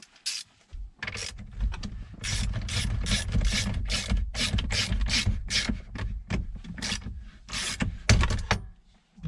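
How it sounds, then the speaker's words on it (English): A hand ratchet clicks in repeated rapid bursts as it works a two-jaw puller on a GM Tahoe truck's steering wheel, close and loud with brief pauses between strokes. "A ratchet out here."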